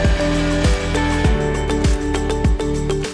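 A Luvele Eclipse electric meat grinder mincing 600 grams of beef through an 8mm cutting plate, its motor humming steadily with a rhythmic, repeating dip and surge in pitch as meat is pushed through, close and loud with no talk.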